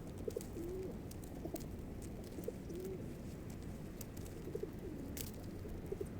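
Pigeons coo softly at a distance in repeated short phrases, with light outdoor noise and a few faint clicks in the background.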